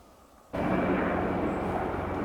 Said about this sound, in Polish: poleciał helikopter